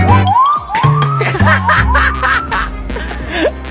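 A boy imitates a police escort car siren with his voice, giving wavering rising and falling wails mixed with snickering laughter, loud and close.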